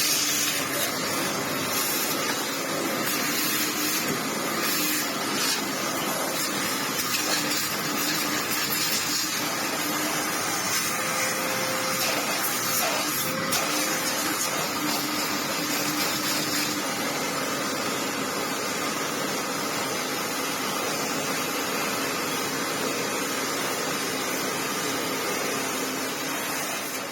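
A vacuum cleaner runs continuously while cleaning a grimy part, giving a loud, steady, unbroken motor whine and airflow hiss close up for the whole stretch.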